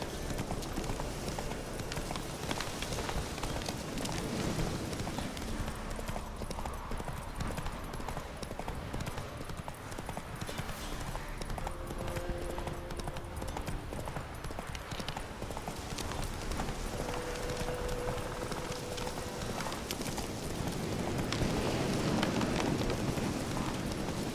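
Galloping horse hooves in a video game, a dense, continuous clip-clop drumming under a busy game soundtrack, loud and steady throughout.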